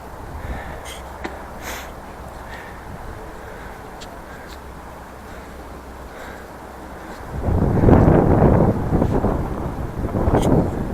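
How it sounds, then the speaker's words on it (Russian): Steady wind in the Qinghai highlands of China buffets the microphone with a low, constant rumble that swells louder in gusts toward the end. "Ветер хоть попутный сейчас."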